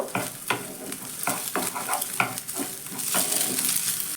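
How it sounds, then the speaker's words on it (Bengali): Egg is stirred with onions frying in a pan, a continuous close sizzle broken by repeated scraping strokes of the spatula at a brisk, irregular rhythm. "ডিমটা দিয়েও একটু নাড়াচাড়া করে পেঁয়াজের সঙ্গে ভেজে নেব"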